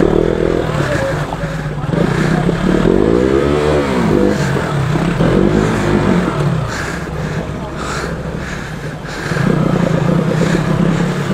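Off-road motorcycle engine revving hard on rough terrain, steady loud drone with rising and falling pitch sweeps as the throttle opens, a brief lull before it surges again, with people talking over it.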